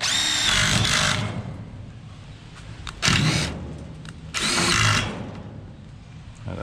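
A power drill drives a self-tapping screw into thin metal while enclosing a gazebo, with three loud whirring bursts of about a second each separated by quieter gaps.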